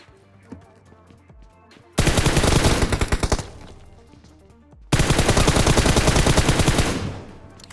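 In PUBG Mobile, two long bursts of rapid automatic gunfire ring out loud and close, each lasting about three seconds, separated by a quieter gap.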